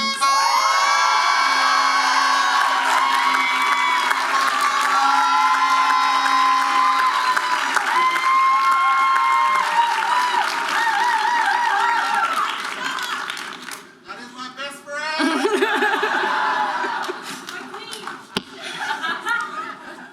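A graduation audience at a medical and dental school ceremony cheers and applauds loudly and steadily as a speaker is welcomed to the stage, with whoops over the clapping; the applause thins toward the end.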